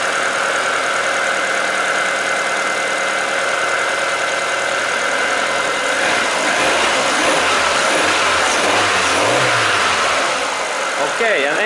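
A Ford Zetec car engine, made between 1995 and 2010 and just restarted after its MAF air flow sensor was cleaned, revs up loudly and steadily up close, with engine noise continuous throughout and a voice talking over it.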